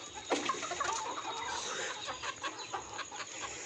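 Country chickens being let out at a poultry farm cluck and chatter continuously at moderate volume, with a few louder calls standing out from the flock.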